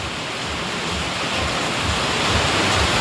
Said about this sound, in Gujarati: વરસાદ પડે જોરદાર